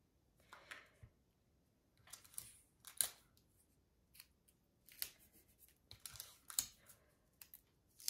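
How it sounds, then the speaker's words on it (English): Regular Scotch tape is pulled and pressed onto paper rings for a Valentine hoop craft, giving quiet, scattered crinkles and short tearing snaps in irregular bursts, close and soft with no talking. "I am going to tape them together."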